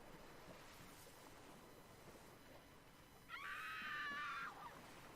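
Screaming in the background of a played clip, a brief high wailing cry rising over windy, wave-like ocean noise about two-thirds of the way through, lasting roughly a second before fading.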